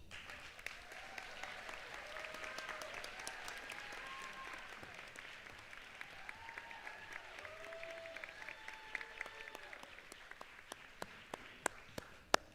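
Audience at a doctoral hooding ceremony applauding after a presentation, a long, fairly quiet spread of clapping with some sharp individual claps standing out, and tonal voices or cheers rising and falling through the middle.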